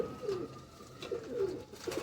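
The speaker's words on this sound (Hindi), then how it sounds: "और उड़ान के बादशाह कबूतर।" Pigeons, including the Nayab Faqeer Gul breed, coo in soft, repeated throaty phrases, two or three rolling calls close by over a faint steady background hum.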